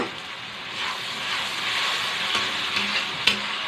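Tomato paste sizzles and spits in a hot pan while cooking for chana masala, with a steady broad frying hiss and a few sharper crackles near the end.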